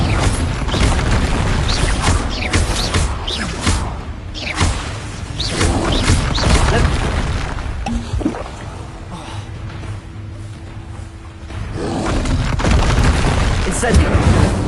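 Explosive fire-spell blasts in a wizarding action game, heavy booms and whooshing impacts with mechanical clatter in the background, loud and dense, fading briefly before another surge near the end.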